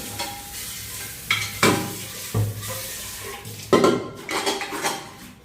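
A pressure cooker is scrubbed by hand, with metallic clanks, scraping and dish clatter that come in irregular bursts, close up and fairly loud, with no talking.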